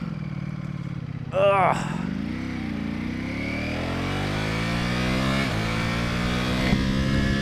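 A 2021 Ducati Panigale V4 Superleggera motorcycle riding in the rain, its engine a steady droning hum with shifting pitch as speed changes, a brief louder burst near the start and a man's short groan over it.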